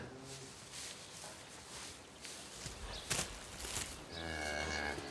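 A cow on a French farm moos in a low, drawn-out call near the end, after shuffling hoof and footstep sounds among livestock.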